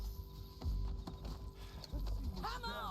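Horse hooves clip-clop on the ground in Red Dead Redemption 2, uneven thuds under game noise and a voice talking briefly near the end.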